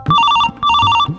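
A telephone rings loudly and close in two long electronic bursts separated by a short gap, with no speech over it.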